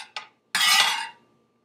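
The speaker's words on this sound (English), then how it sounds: "I think I might chop up just a little bit more though." Leftover turkey meat being chopped: a short scraping burst, then a longer, louder chopping scrape lasting about half a second, followed by quiet.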